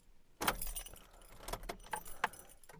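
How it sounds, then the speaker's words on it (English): Car keys jangle as the ignition is switched off on a Nissan Micra K12, several bright metallic rattles and clinks in quick bursts, close by with no talk. "So we turn off the ignition"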